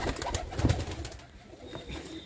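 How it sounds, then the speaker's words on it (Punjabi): A racing pigeon coos nearby, soft low calls with a louder moment early on, then quieter rustling. "ਇਹ ਦੇਖੋ ਜੀ ਕਬੂਤਰ ਛੱਪਿਆ ਕਬੂਤਰ"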